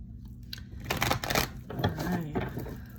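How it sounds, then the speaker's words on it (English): A deck of tarot cards is shuffled by hand in quick riffling bursts, crisp papery flutters and slaps coming in several close clusters with brief pauses between. "Let's do a quick shuffleito."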